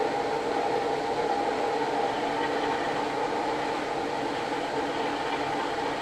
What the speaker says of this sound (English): I can even just coast by throttling off completely, and the train maintains its speed